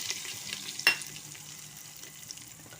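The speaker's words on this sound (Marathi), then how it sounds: "तर त्यामध्ये ही तमालपत्र घालते आहे. तसेच हा कढीपत्ता घालते आहे." Bay leaf and curry leaves dropped into hot oil while cooking masala brinjal rice give a faint, steady sizzle with a brief sharp crackle near the start, then a soft continuous hiss.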